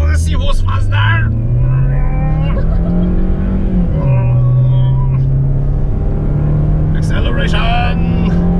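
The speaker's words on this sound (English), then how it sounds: "Acceleration." A 2018 Toyota Rush accelerates hard. The loud engine drone climbs in pitch, dips at a gear change, then climbs again. Brief voices come at the start and end.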